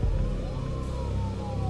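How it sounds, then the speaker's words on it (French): Police sirens from the video game Max Payne wail with sliding tones over a low rumbling backdrop, continuous and steady, sounding near to mid-distance. "J'entendais le hurlement des sirènes se rapprocher."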